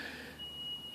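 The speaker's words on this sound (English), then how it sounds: "Sorry about the beeping in the background. I think there's a truck backing up somewhere." A truck backing up somewhere in the distance gives off a reversing beep, a thin steady high tone that starts partway through and holds, faint behind a quiet room.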